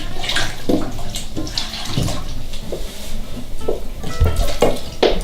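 A whole Thanksgiving turkey is lowered into a container of brine, sloshing and splashing water with irregular bursts of churning and dripping, close and fairly loud throughout.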